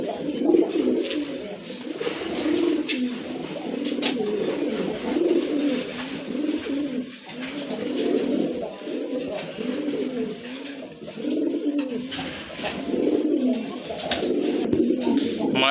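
Pigeons coo steadily and close at a pigeon sale, their overlapping low, throaty calls rolling on without a break, with no clear talking.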